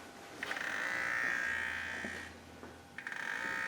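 An electric coolant pump on a BMW 335i running with an odd noise: a steady mechanical buzzing whine that swells, breaks off briefly, then resumes, with a few faint clicks underneath.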